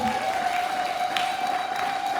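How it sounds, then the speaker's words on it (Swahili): A Sunday church congregation claps in a steady, moderate wash of applause that carries on without a break, with a faint sustained tone underneath. "Bado makofi yalikuwa machache, kila mtu alikuwa na shughuli zake."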